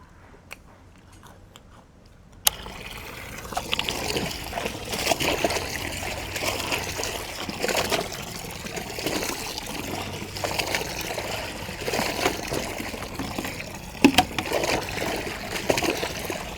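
Laundered cleaning cloths are rinsed by hand in water at home, producing close, irregular sloshing and splashing that carries on throughout, with no talking.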